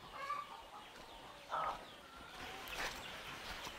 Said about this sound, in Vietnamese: không biết gia đình làm gì mà gà bay tung tóe kìa